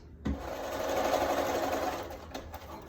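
A sewing machine runs steadily, stitching 6.5-inch fabric pieces onto a mini boxed quilt block, a close, even mechanical whir lasting a couple of seconds with a soft start and stop.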